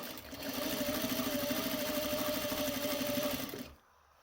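A sewing machine runs a steady, even stitching whir for about three seconds while sewing piping onto fabric, then stops abruptly into near silence.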